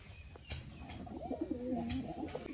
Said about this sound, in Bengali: এবার এই পায়রাগুলো এক এক করে আপনাদের কিছু দেখাবো